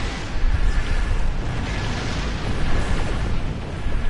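Continuous rumbling explosions and bursts while shooting at a transport ship in Star Trek Online on PS4, a dense, loud wash of blasts and booming weapon fire with no talk.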